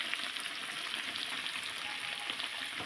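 Chicken tandoori frying in hot oil, a steady dense sizzle with crackling pops running continuously throughout at close range, no voices.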